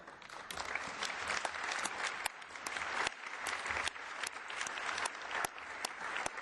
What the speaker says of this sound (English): we have to give a warm round of applause for the panelists